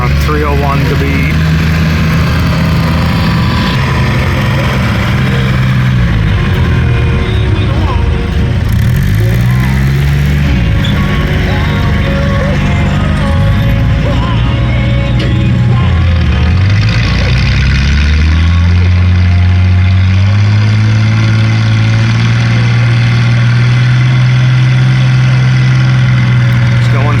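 A tractor engine runs loud and close at a tractor pull as a competitor moves onto the green sled, its steady drone rising and falling in pitch before settling into a higher sustained roar, with voices talking over it.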